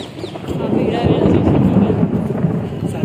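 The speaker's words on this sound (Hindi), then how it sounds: "सबको नहीं पता यहाँ बिजली गिर रही है बिजली गिर रही है" Loud thunder from lightning strikes rolls as one sustained, deep rumble outdoors, with wind buffeting the microphone and voices faintly underneath.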